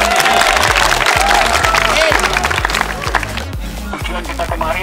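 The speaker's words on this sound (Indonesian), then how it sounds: "Tepuk tangan." Students at a school traffic-safety event run by the Samarinda traffic police clap together in a loud, steady rhythm, with crowd voices mixed in.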